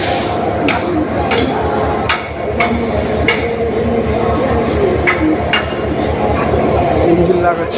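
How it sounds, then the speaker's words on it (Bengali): A train engine coupling onto a line of railway carriages, with sharp metallic clanks and knocks recurring over steady rumbling rail-yard noise while people talk nearby. "ইঞ্জিন লাগাচ্ছে"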